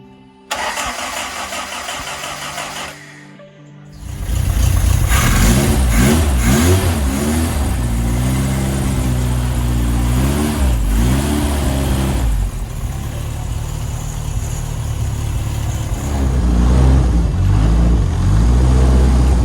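A car engine cranks after its carburetor is primed, stutters briefly, then catches and fires into a loud, close running note with repeated throttle blips and revs rising and falling over a rough idle.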